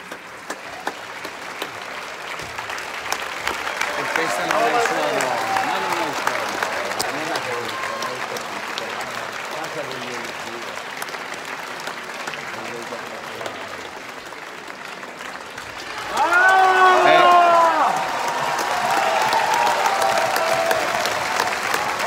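Opera audience applause in the Teatro Municipale di Piacenza hall after Verdi's Otello, sustained dense clapping swelling and holding, with a voice briefly speaking over it partway through.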